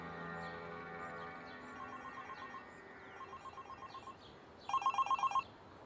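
An incoming call sounds as a phone's ringtone, faint at first under quiet background music, then a louder burst of rapid trilling rings near the end.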